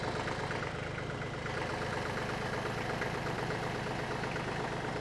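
A TYM 2515H compact tractor engine runs steadily at a near idle, a continuous low throb with a faint knocking rhythm, held at an even level throughout with no talk over it.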